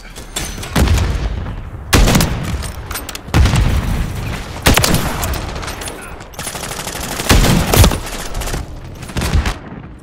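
Gunfire bursts and stun grenade blasts from Call of Duty Modern Warfare 3 on the Rust map, with five loud, booming volleys about every one and a half seconds and rattling shots between them.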